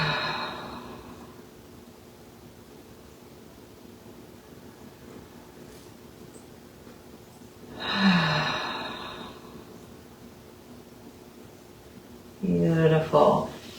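Slow, deep breathing during a winter yoga session, with a soft exhale near the start and two louder, airy breaths through the mouth later, separated by long quiet stretches.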